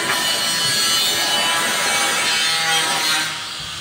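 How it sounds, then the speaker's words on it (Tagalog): An angle grinder cuts through corrugated metal roofing sheets during a roof and gutter replacement, a loud continuous rasping whine held close for several seconds before tapering slightly at the end. "Grinder."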